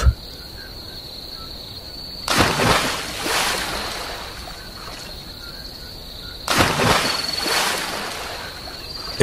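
A cartoon character dives into water, heard as two loud, rushing splash bursts a few seconds apart, each fading out over a steady, high insect-like whine.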